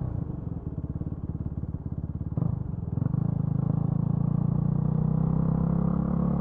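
A motorcycle rides along a muddy gravel road, its engine droning steadily and close, with a rougher surge partway through as the ride carries on over the loose surface; no one speaks.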